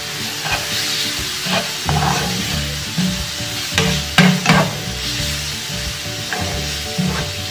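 Leeks fry in a pan for a salmon and spinach quiche, with a continuous close sizzle broken by occasional stirring scrapes and clacks of a utensil, and no talking.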